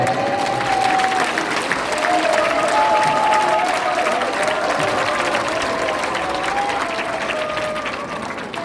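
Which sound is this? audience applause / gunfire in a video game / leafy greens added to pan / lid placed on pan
audience applause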